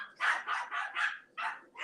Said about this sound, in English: we also have dogs chasing squirrels right now